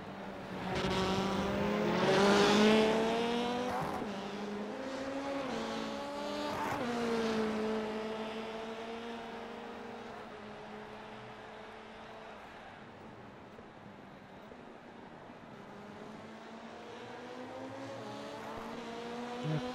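A VW Beetle Lite rallycross car racing at Legacy Daytona Rallycross Short in iRacing, its engine note rising and falling through gear changes and revs, loud early then easing to a steadier drone toward the end.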